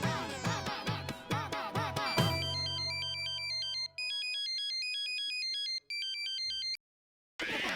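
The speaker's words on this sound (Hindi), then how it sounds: "रिंग बज रहा है।" A mobile phone ringtone plays loud and close, an electronic melody of repeated bright tones that cycles several times, cutting off briefly between rings before stopping.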